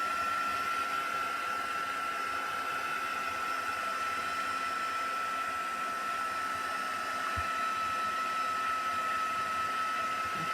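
A hair dryer runs steadily, drying a painted craft piece held down at its center, giving a constant, close, whooshing blow with a thin whine and no voices.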